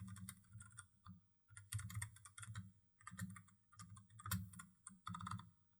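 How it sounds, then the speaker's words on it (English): Typing on a computer keyboard while laying out ad text in Canva, close quiet bursts of key clicks in uneven clusters with short gaps, no voice. "If I can type."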